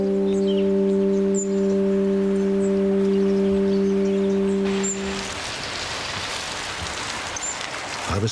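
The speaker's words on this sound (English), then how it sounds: "at Coucagnan it was raining still" Steady rain falls in the Pyrenees, a soft hiss on surfaces that grows louder and broader halfway through, while a sustained tonal hum fades out and a few faint chirps sound above.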